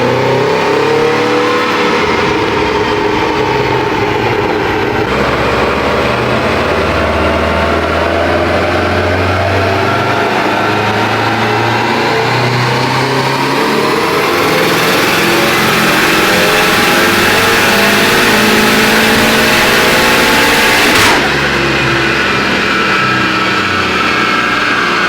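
Subaru STI engine, about 100 miles old, revving hard on a dyno, a loud continuous roar climbing steadily in pitch through long pulls, heard alone without talk.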